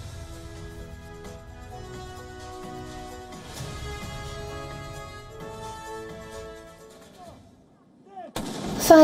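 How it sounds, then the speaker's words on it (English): Solemn tonal music plays, then a sudden loud booming cannon blast from a gun salute at the state funeral of former Japanese Prime Minister Shinzo Abe lands near the end and rings on. "Fire cannons"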